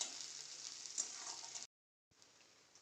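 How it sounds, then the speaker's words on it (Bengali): Chopped onion fries in a pan, a faint steady hiss of sizzling oil that cuts out briefly and then resumes, with no voices. "তারপর এটাকে নাড়াতে থাকবো যতক্ষণ এটা একটু লাল লাল ভাজা না হয়ে যাবে।"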